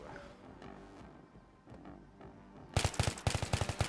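Battlefield 3 gunfire: after quieter distant shots, a loud close burst of rapid automatic fire erupts near the end in sharp repeated cracks.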